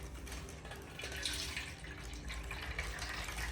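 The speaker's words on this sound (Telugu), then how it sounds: "First water పోసేసుకుందాం." Water is poured into a container during kitchen food preparation, a soft, continuous filling sound, quiet and without voices.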